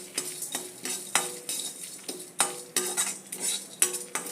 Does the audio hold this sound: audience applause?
no